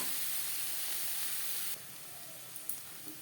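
Onion and garlic frying in oil for a Bengali chela fish curry, a bright steady sizzle that drops abruptly partway through to a quieter hiss with a few small pops and clinks.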